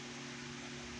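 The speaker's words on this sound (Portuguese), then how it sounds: "Peço perdão se tiver um pouquinho de barulho, é porque o meu ventilador tá ligado." An electric fan runs steadily in a room as a constant broadband whoosh with a low motor hum, unchanging throughout with no talking.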